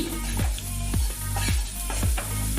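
Whole cashews frying in a pan for cauliflower payesh: a close, steady sizzle with a low hum under it and a few evenly spaced soft thuds or scrapes of stirring.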